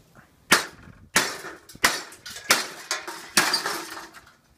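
A hammer smashes into a TV in a series of six sharp, loud impacts about half a second apart, each a bright crack of breaking plastic and glass that rattles briefly before the next blow.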